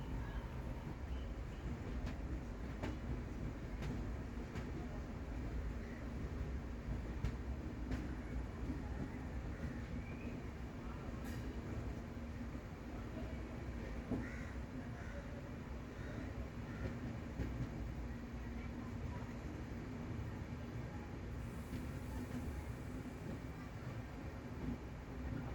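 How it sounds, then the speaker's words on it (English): WDG4 and WAG9 locomotives standing in a loco siding at a railway station give a faint, steady rumbling idle with light clanks and distant rail-yard noise throughout. "A couple of WDG4 and a WAG9 locomotive in the loco siding here."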